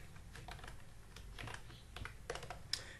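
PHP code is typed on a computer keyboard in a quiet room, soft rapid key clicks in an irregular patter with a slightly sharper tap near the end.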